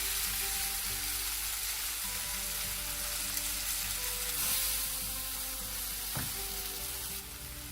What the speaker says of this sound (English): Now add the chopped brinjal to this masala and mash it while mixing.